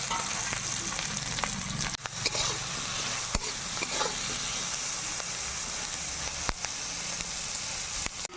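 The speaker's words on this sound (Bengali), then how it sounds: "কাঁঠালের বীজগুলো ভাজা হয়ে গেছে" Jackfruit seeds fry in a pan with green chillies, turmeric and salt, giving a steady close sizzle with stirring scrapes and a few sharp clicks throughout. No one speaks.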